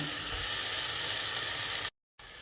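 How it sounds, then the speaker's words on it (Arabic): Onion, bell pepper and tomatoes fry in olive oil with a loud, dense, even sizzle that cuts off abruptly near the end, then resumes briefly. "حطيت زيت زيتون كمية رايحة. الحين بنزل بصل، فلفل رومي، أقر مع البصل والفلفل بحط الطماطم"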